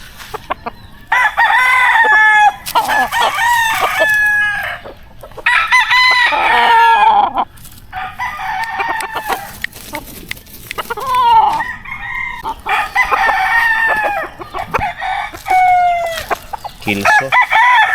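A Vampire Brown Red rooster crows repeatedly in long, loud calls, with clucking from farm chickens between them in a backyard farm setting, no talk over the birds.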